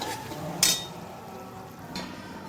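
Churma is mixed in a pan with the heat switched off. A spoon scrapes and clinks against the pan, with one sharp metallic knock followed by a softer clink, over low background noise.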